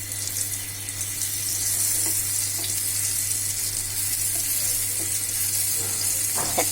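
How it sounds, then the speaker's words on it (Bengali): Taro and shrimp pieces fry in hot oil, a loud, steady hiss and crackle that stays close and continuous, with a low hum running underneath. "একটা একটা করে আমি এবার ভাজতে দিচ্ছি।"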